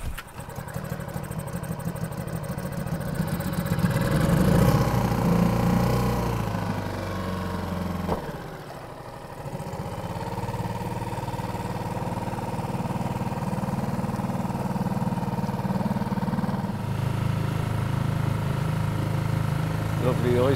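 A new dinghy's outboard engine runs at a steady idle, a close mid-pitched motor drone that rises, dips briefly and settles again, with someone talking over it.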